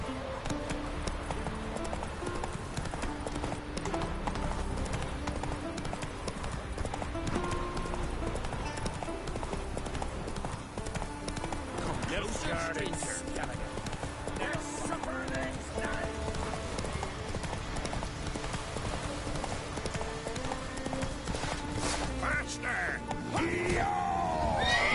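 Galloping horse hooves pound steadily and loudly throughout a fantasy game, The Witcher 3: Wild Hunt, mixed with game music and ambience, with a voice speaking over parts of it.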